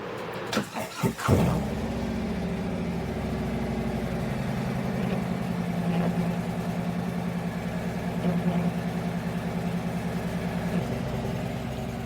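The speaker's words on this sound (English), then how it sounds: "hopefully you can hear me as I'm talking over the motor" A motorcycle engine starts with a few quick sputters, then settles into a steady, close, continuous idle hum that runs on unchanged.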